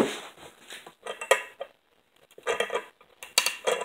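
A piece of fir wood creaks and cracks under applied pressure in irregular bursts of splintering crackles, a short quiet pause in the middle, then sharper snapping crackles toward the end.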